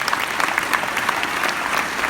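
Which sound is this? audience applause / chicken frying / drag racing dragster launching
audience applause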